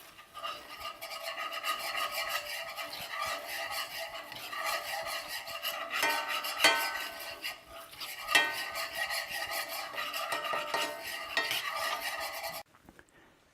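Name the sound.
stirring Dijon mustard pan sauce in a cast iron skillet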